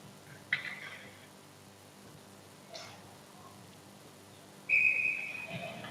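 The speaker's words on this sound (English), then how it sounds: "And we'll get a whistle." A referee's whistle sounds at an ice hockey game in an arena: a short shrill blast, then a longer, louder one, with faint rink ambience between.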